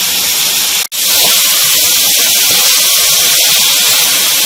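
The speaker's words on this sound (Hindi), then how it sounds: "देखिए टमाटर भी इसके साथ हमारे गोश्त के साथ भुन रहे हैं।" Tomatoes and mutton fry together in a pot for Punjabi aloo gosht, giving a loud, steady sizzling hiss that breaks off for a moment near the start and then carries on unchanged.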